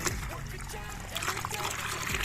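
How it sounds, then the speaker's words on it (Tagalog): Water from a hose trickles and splashes into a recycled container being filled for an Azolla pond, a close, continuous dribbling flow with brief spatters and some background voices. "So ngayon pupunuin natin to ng tubig."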